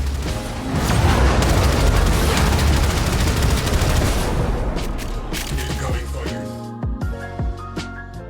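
Mark 0 Apoc Railjack guns blaze in a space combat video game, a dense, loud stream of rapid booming shots that keeps going for several seconds before tapering into scattered bursts and musical tones.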